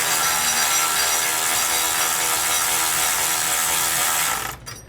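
Ratchet with a 9/16 socket snugging carriage bolts while installing Air Lift LoadLifter 5000 Ultimate air helper springs on a vehicle, a loud continuous rapid clicking held close for nearly five seconds before it stops abruptly.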